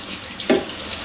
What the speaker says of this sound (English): Again, any direction, high pressure spray of water.